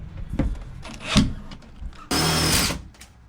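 An impact driver sets self-tapping screws into a van liner, with a few short thumps and scrapes first, then one loud, buzzing burst of driving lasting under a second, close up.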